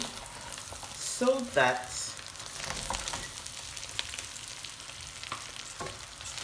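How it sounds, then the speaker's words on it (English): Oil rice with salted beef being stirred in a pot, a steady scraping and sizzling texture with brief louder stirring strokes early on and a short spoken phrase. "you need to make sure you stir thoroughly"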